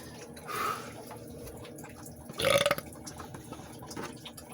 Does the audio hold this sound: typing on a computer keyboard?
no